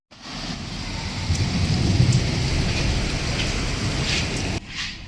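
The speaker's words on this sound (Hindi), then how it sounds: "बहुत ज़्यादा बारिश लगी हुई है" Heavy, steady rain pours down in a dense, continuous roar, loud and close, with no voices.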